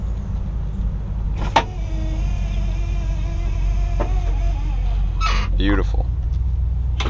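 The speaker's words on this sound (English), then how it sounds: "check our power windows real quick." Power windows on a 1975 Pontiac Grandville Brougham convertible whir as the motors run, heard over a low engine idle with a few clicks and brief mechanical noises.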